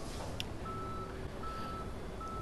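A tow truck reverses in the Police Simulator video game, its steady beeps repeating over a dense, constant engine and traffic rumble.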